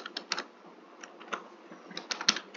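Soft keystrokes on a computer keyboard while C code is typed, irregular clusters of light taps and a few firmer presses, close but quiet over faint background hiss.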